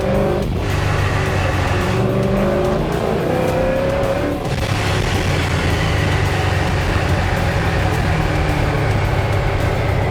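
A car on a race track, a loud continuous engine roar that holds steady throughout with a brief dip partway, close and alone without talk.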